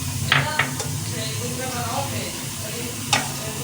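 Bay leaf and cumin seeds sizzle in hot oil with a steady hiss, close and clear, broken by a few sharp spoon clinks against the pan.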